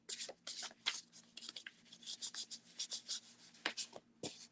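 Textured playing cards are shuffled with a gritty, sandpaper-like rasp, in quiet close-up bursts of rustling that come quickly and unevenly, with brief gaps between runs.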